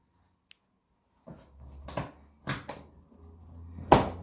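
A knife snips plastic straps off the box of a 65-inch LG CX OLED TV, a few separate close clicks and snaps with a soft rustle between them.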